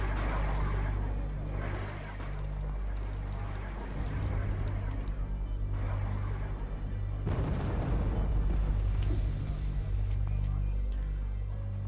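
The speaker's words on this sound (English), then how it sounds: "I love watching the size of those artillery shells going off." Artillery shells detonate in the Wargame: European Escalation battle game, several deep booming explosions rolling over a constant low rumble of engines and battlefield noise, with heavier blasts landing about a third and two thirds of the way through.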